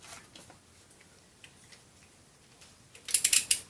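A socket wrench ratchets on bellhousing bolts while a billet flex plate is installed on a Nissan 370Z or Infiniti G37, giving a quick burst of sharp, close clicks near the end after quiet faint ticking.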